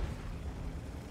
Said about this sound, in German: Fangen wir hier nochmal einen fairen Schuss vom Conqueror.